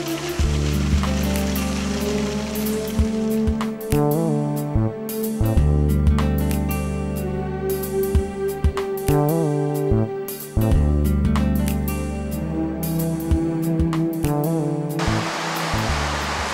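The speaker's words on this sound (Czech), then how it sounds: "Déšť dělal takový rámus na plechové střeše" Heavy rain drums steadily on a metal roof in the Philippines, a dense continuous roar with sharper individual hits scattered throughout.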